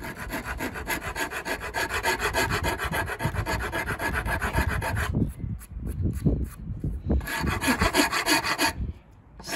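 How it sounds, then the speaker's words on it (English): A very rough rasp scrapes the wooden body of an electric guitar, giving a loud, close, continuous rhythmic rubbing and grating with brief pauses between strokes. "this is a very rough rasp, so yeah, I have to be very careful"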